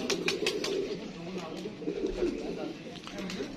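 Pigeons coo softly in a close, repeated murmuring pattern from a breeder's loft, accompanied by faint rustling and scattered short bird calls.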